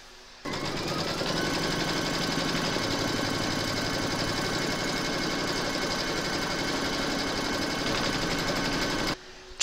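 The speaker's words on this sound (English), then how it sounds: "Pop your hoop into your machine and stitch round number two to secure it." An embroidery sewing machine stitches batting held in a hoop, a steady, close mechanical hum with a fast repetitive needle chatter that starts abruptly and runs unbroken for about nine seconds before cutting off.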